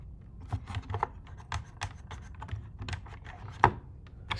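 Soft tapping of keys on a small Akai LPK25 travel MIDI keyboard, a quiet, irregular run of plastic clicks and thumps, close and alone.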